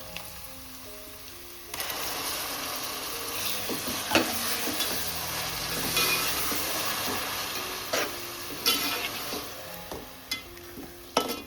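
Tomato puree frying over cooked onions in a pan, a loud steady sizzle with stirring scrapes and occasional clinks of the spoon on the pan throughout, close up with no speech.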